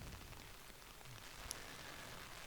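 Heavy rain pours down on a disc golf course, a steady, dense hiss of drops on the surface lasting throughout, with no talk over it.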